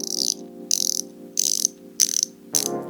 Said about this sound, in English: The bezel sound is pretty amazing. Hear it.